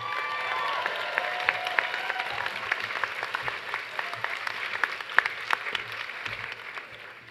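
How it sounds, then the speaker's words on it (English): A crowd applauds the new graduates at the SMC class of 2019 commencement ceremony, with continuous clapping and scattered sharper individual claps carrying on steadily throughout. "Give them a round of applause."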